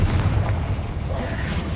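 A Confringo fire spell blasts in Hogwarts Legacy on PS5, giving a loud, continuous low boom and rumble that fills the whole moment without a break.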